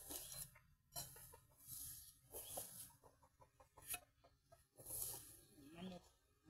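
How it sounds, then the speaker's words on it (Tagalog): Chickens cluck quietly in a home garden, short intermittent calls spread through the clip, mixed with distant voices and faint background noise. "Manok."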